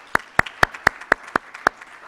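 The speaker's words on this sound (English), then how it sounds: "please join me in a round of applause in thanking our planning committee" Eight sharp, evenly spaced claps ring out over about two seconds, a lone pair of hands applauding at an awards ceremony, close and crisp with quiet between each beat.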